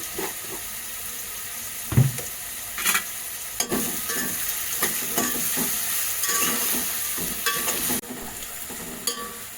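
Chopped onion sizzles in a pan with a pinch of salt, with a steady frying hiss and repeated scraping stirs of a spatula, close and loud.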